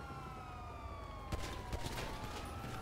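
A police car siren wailing in GTA V, a steady rising and falling tone with sharp gunfire cracks breaking in partway through, set against rumbling game noise.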